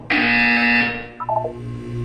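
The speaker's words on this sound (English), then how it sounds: "When you hear the buzzer, look down at the floor." Buzzer from the video game Portal 2: a loud, steady electronic tone lasting about a second, followed by a few quick stepped beeps over a low background hum.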